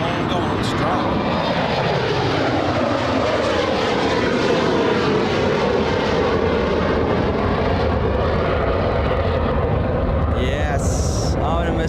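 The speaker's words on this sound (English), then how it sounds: "Everett's Air Cargo. Get ready. It's going to be one of the loudest takeoffs of all day." Loud takeoff roar of a 36-year-old MD-80 cargo jet at Anchorage airport, a broad sustained engine rumble and whine filling the whole stretch, swelling as the aircraft passes close by, with no talk over it.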